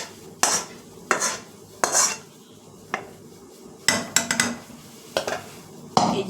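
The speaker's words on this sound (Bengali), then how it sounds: "এবারে কুকারটা চাপিয়ে দিলাম। এর মধ্যে আমি এই মাটনটা দিয়ে দেবো।" Metal pots and utensils clatter at close range while mutton goes into a pressure cooker in a home kitchen, with a handful of sharp, irregular clanks and scrapes and no talking.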